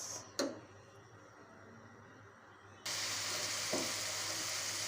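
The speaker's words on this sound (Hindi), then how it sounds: "प्याज हमारा फ्राई होना शुरू हो गया" Onions frying in a pan for Mughlai chicken handi hiss softly, with one clink early on, then the sizzle jumps to a louder, bright, steady crackle that continues to the end.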